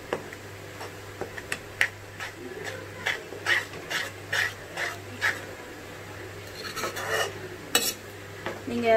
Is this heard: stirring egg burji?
yes